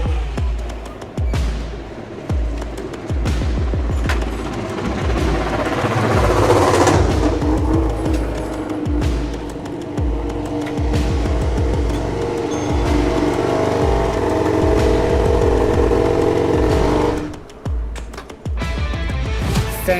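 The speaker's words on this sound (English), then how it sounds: "we are able to hear the sound of MotoGP pit lane in the greatest detail" MotoGP motorcycles in the pit lane during free practice, engines running loud and close with steady rev changes and throttle blips, a brief drop in level near the end before the roar resumes.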